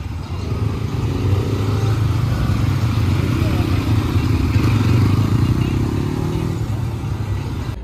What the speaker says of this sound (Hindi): भाई बाहर जाते तो ये ऐसे रेस देते भाई, हुई हुई करते जाते सब